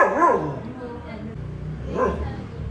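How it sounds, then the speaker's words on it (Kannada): A household dog barks in two short bursts, one at the start and another about two seconds later, fairly faint against a quiet room during a family festival gathering. "ನಮ್ಮ ನಾಯಿ ಎಲ್ಲಿಂದ ಬಗಳ್ತದೆ ನೋಡಿ"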